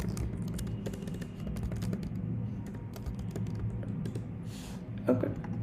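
Rapid, light keystrokes on a computer keyboard patter steadily at close range over a low background hum, with a slightly louder tap near the end.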